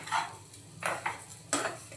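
Spoon scraping and clinking in a pan while stirring mango sheera (semolina with mango and sugar), three short bursts of close metallic scraping with quiet pauses between.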